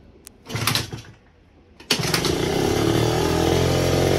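A Piaggio NRG scooter engine, still without its exhaust fitted, cranks briefly, pauses, then catches with a sharp start and settles into a steady, loud running buzz close by.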